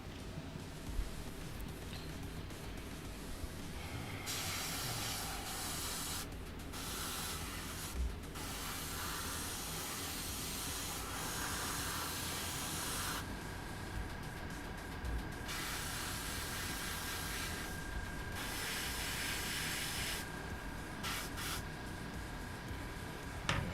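Steady hissing spray in long bursts with brief pauses between, close and continuous, like an aerosol can spray-painting a model M978 fuel truck.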